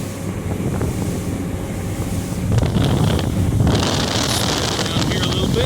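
A 2019 Tahoe 2150 deck boat with a 225 engine roaring across open water with strong wind buffeting the microphone and splashing spray, the engine noise steady and loud, swelling midway.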